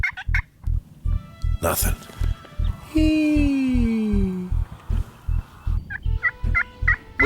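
Wild turkeys gobble loudly and repeatedly during a hunt, with sharp close gobbles and a long drawn-out call in the middle, joined by a low rhythmic thumping and one brief spoken word.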